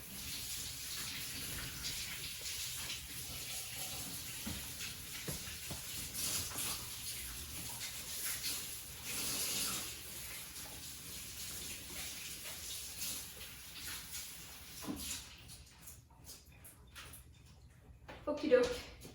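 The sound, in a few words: tap water rinsing bok choy in sink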